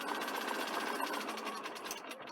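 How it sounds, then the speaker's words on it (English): A sewing machine stitches steadily down a front placket band, a quiet, fast, even mechanical whirring and ticking with no pause. "So I'm just going to sew right down to the bottom"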